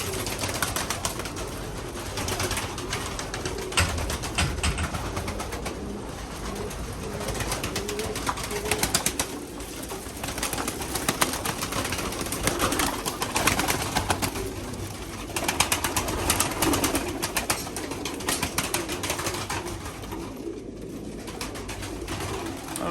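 Pigeons coo steadily in soft, overlapping calls, with occasional wing flutters and rustling nearby.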